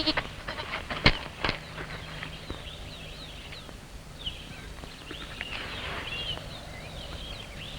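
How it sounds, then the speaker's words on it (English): Goats bleat outdoors, thin wavering calls from somewhat far off over a noisy background, with a couple of sharp knocks early on. "There are goats here."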